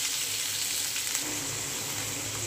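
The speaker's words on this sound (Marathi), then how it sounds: "तर आपली शिमला मिरची परतली गेलेली आहे" Bell pepper (capsicum) sautéing in a pan with a pinch of salt, giving a steady, moderate sizzle that stays even throughout with no voices.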